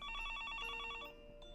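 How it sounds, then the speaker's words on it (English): A telephone in the video game Higurashi When They Cry rings with a rapid, trilling electronic bell that sounds clear and steady, then stops and leaves a fading tone, with no speech. "the ear-splitting ringing of the phone ripped me from my slumber and pulled me back to reality"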